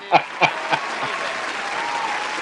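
A few sharp, close claps ring out, then settle into a steady wash of crowd applause at a 2019 championship-style show.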